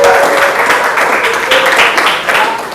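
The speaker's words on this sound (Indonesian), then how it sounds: "Beri tepuk tangan dulu" Students in a classroom clap for a classmate, with a loud, close burst of applause from a small group that continues steadily and then tapers off slightly; faint voices are mixed in.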